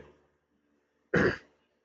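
A single short, close throat-clear or cough from someone with a cold, one sharp burst in an otherwise quiet room.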